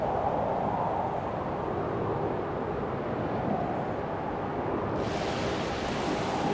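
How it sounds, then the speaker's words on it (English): Sea surf roars as a steady, broad wash of noise, constant and enveloping with no distinct breaks. A brighter hiss rises toward the end. "The roaring sounds of the sea's surf, the waves crashing over each other"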